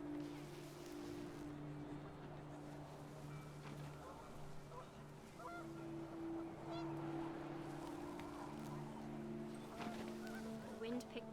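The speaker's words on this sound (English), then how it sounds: "The wind picked up and panicked geese appeared and quickly went." Panicked geese in What Remains of Edith Finch give several honking calls over wind and a sustained tonal drone, and there are brief sounds that may be faint voices.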